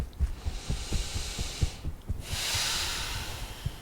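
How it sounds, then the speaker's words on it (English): Rhythmic soft tapping thumps on the ribs, then a long, loud, breathy exhale that rushes through the air, close and noisy. "Big, noisy breath."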